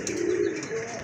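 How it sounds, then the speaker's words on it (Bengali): Satin pigeons coo in a soft, low, rolling call close by, a single brief phrase with no talk. "আরেক জোড়া কবুতর খুবই চমৎকার কোয়ালিটিফুল এক জোড়া শাটিন কবুতর"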